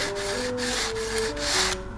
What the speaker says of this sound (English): I'm going to take my sanding block and sort of angle it and just make a few passes